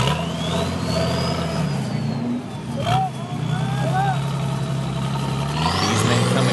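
A turbo diesel 4x4 climbs an off-road obstacle at a national 4x4 challenge. The engine growls loudly and rises as it revs, with a whining pitch that climbs and falls, and a commentator talks over it.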